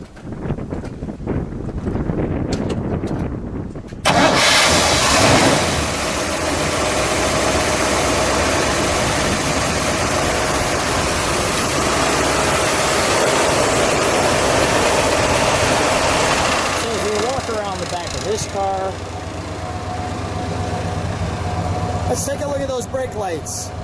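A 1961 Pontiac Ventura 389 V8 with Tri Power turns over and settles into a loud, steady idle, with rushing wind noise over the microphone and brief voices near the end.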